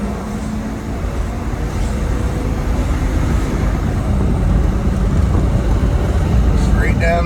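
A 1976 Cadillac Eldorado convertible with a 500 cubic inch big block V8 cruises down the road, a steady low engine drone and wind rush holding evenly throughout, with a voice speaking faintly underneath.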